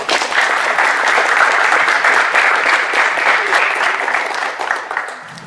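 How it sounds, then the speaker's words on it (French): Audience applause for Masuma and Ayana at a Paris tournament gathering, a dense steady clapping from a crowd lasting throughout and tapering slightly at the end. "Je vous demande d'applaudir Masuma et Ayana, s'il vous plaît."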